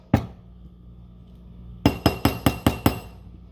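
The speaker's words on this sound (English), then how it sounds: "use my rawhide mallet to kind of round it out first" A rawhide mallet beats a ring on a steel ring mandrel while opal jewelry is being made: one early knock, a pause, then six sharp, evenly spaced clinking blows close by with no talk.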